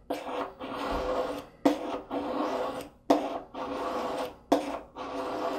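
A knife blade rasps back and forth over a diamond sharpening stone in steady, close strokes, each long scraping pass separated by a short pause, about four passes in all, with no talking.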